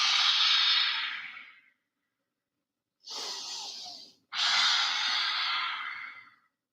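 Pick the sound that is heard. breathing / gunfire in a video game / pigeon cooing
breathing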